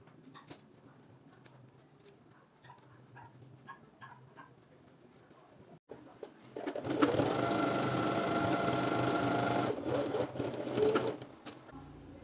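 A sewing machine stitches a fabric bag seam and starts after a quiet stretch with pigeons cooing in the background, then runs as a loud, steady whir for about four seconds before stopping.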